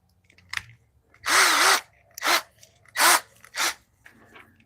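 Several close, loud bursts of a power drill driving screws, each whine winding up and cutting off, separated by quiet gaps with faint background noise.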